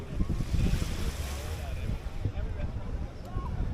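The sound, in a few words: ocean waves at a Hawaii beach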